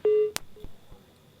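A telephone line tone after a call disconnects: a steady electronic beep with bright harmonics, cut off by a sharp click, then a couple of faint short tones trailing into quiet.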